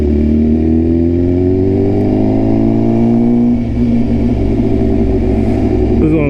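Steady engine drone and rumble from heavy morning traffic on Highway 287, loud and close from a moving vehicle, with a rising engine tone and a brief dip partway through.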